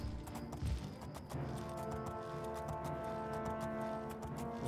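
Horse hooves clopping steadily while riding in the video game The Elder Scrolls IV: Oblivion, a rhythmic run of hoof hits over a constant game ambience and soft music-like tones.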